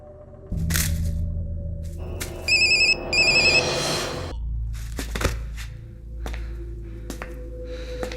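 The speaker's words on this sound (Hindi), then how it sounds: "भाई रिंग बज रही, वो उठा नहीं रहा है।" A phone ringtone chirps in short repeated bursts against a dramatic film score, with cracks and rustles after; no talk.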